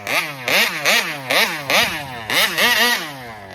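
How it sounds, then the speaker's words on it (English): A scooter engine with a slipping clutch revs up and drops back repeatedly, about seven rising-and-falling surges in quick succession, loud and close with no talking. "You can see how that clutch is slipping."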